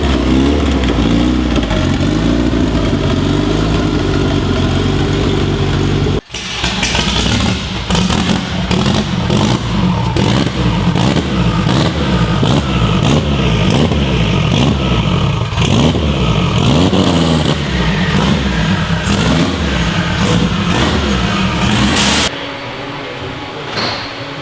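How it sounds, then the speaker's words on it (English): A 517 hp car on a dyno running on 91 pump gas roars loudly, with a brief drop near six seconds, then revs surging and falling in choppy pulses before cutting back to a lower idle-like hum near the end. "Brent's getting ready to start it up"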